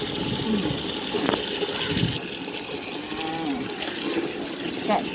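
Water splashes and pours over a Labrador dog at bath time, a continuous close gush with small trickles while a person talks over it.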